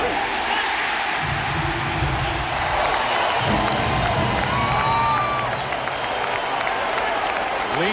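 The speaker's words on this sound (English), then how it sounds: "Lisa Johnson applauding her husband" Crowd applauding and cheering in the stands at a 2001 World Series baseball game between the Yankees and Diamondbacks, a steady broad wash of clapping that swells and dips over eight seconds.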